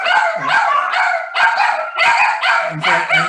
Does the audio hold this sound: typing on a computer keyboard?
no